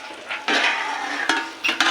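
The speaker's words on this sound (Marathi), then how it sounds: "मसाला चांगला फ्राय करून घ्यायचा आहे तेलात" Masala fries in hot oil with a steady close sizzle, broken by a few scraping stirs of a spoon against the pan.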